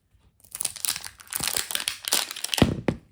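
Close crinkling and crackling as plastic packaging on a Miniverse Make It Mini toy is peeled open, a few seconds of irregular rustles ending in a couple of sharper snaps.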